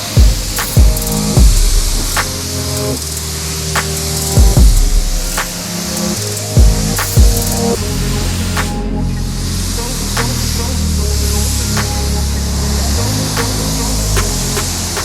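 A spray gun lays down tri-coat automotive top coat paint in a steady, continuous hiss, broken by short sharp bursts and clicks as the trigger is pulled and released.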